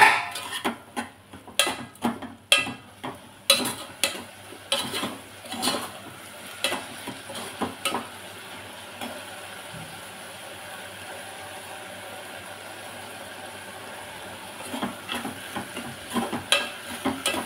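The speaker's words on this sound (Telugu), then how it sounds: "ఇది కూర మూత తీసి ఒకసారి తిప్పుకుందామండి." Capsicum curry is turned in a pan after the lid comes off, producing a run of close scraping stirs and soft sizzling in the first half, then a quieter stretch before more stirring near the end, with no talk.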